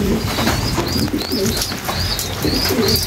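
Several pigeons coo repeatedly in soft, low, rolling calls, with brief chirps over a constant background hum.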